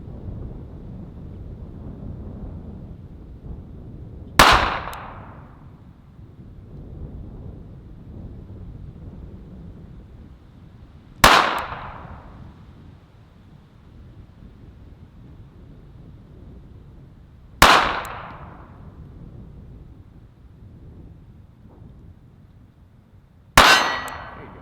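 Four single pistol shots fired at a target on a range, each a sharp, loud crack with a decaying tail, spaced several seconds apart over a quiet, breezy background with no talk.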